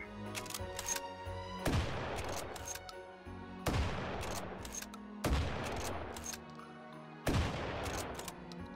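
A shotgun loaded with standard buckshot fires four loud, evenly spaced blasts in the VR game Hot Dogs, Horseshoes & Hand Grenades, each boom trailing off over a faint background hum.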